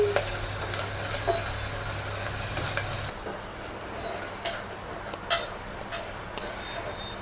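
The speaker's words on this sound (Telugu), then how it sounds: "ఆనియన్స్ మంచిగా ఫ్రై అయిపోయాక మేము ఇంకా చికెన్ వేసేసుకుంటున్నాం." Onions with ginger garlic paste frying in a pan as chicken is added, a steady sizzle with stirring scrapes and a few sharp clatters of pot and spoon toward the end.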